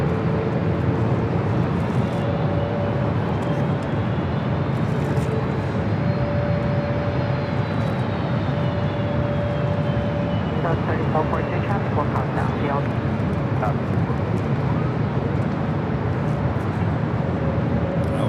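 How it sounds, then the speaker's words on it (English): A British Airways Boeing 777-300ER on its London Heathrow arrival into LAX, a continuous jet roar with a rising and falling whine, while someone talks over it and radio chatter crackles midway. "This is British Airways 281 coming in from London Heathrow on the"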